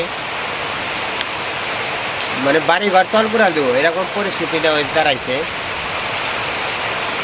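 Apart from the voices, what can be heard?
heavy rain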